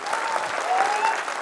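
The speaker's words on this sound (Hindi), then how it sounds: "ताली मारिए अपने लिए" A seated audience at a business felicitation event claps for itself, dense continuous applause from a large crowd, loud and close, with a faint voice running underneath.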